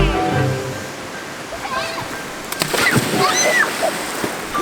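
A person jumps off a rock into a cold river, making a splash that churns into sloshing, bubbling water, close and fairly loud, with a brief voice reacting afterward.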